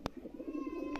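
Black Sirazi fancy pigeon chicks give a soft, low cooing that runs through the moment, with brief sharp clicks at the start and end.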